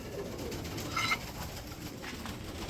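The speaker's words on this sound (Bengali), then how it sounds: "চলে আসছে লাহোরি কবুতর" Lahori pigeons at a large pigeon farm give soft, low cooing over a steady background hum, with one slightly louder call near the middle; no one speaks.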